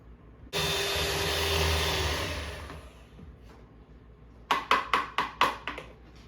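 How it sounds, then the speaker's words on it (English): An electric hand mixer beating cake batter whirs loudly and steadily for about two seconds, then winds down and stops, followed by a quick series of sharp knocks as the beaters are tapped against the bowl. "let me get the mixer out. I'll mix this up"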